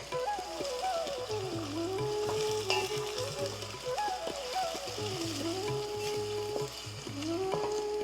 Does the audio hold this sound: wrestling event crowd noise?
no